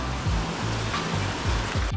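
Sea waves at Oxwich Bay beach on the Gower Peninsula near Swansea, heard as a steady broad wash of surf, close and constant, with a brief swell of water noise toward the end.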